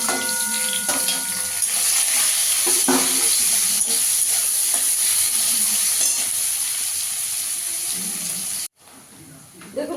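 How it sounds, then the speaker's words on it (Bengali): Chopped onions sizzling in hot oil with cumin seeds for masala khichuri, a steady loud frying hiss with occasional stirring scrapes that cuts off abruptly near the end. "পেঁয়াজটা দিয়ে দেবো পেঁয়াজটাকে একটু লাল লাল করে ভেজে নেবো"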